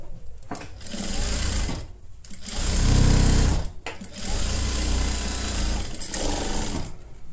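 A sewing machine stitching a halter neck blouse runs in bursts, loud and close, its rapid mechanical chatter stopping and restarting several times, with one heavier, lower-pitched run in the middle.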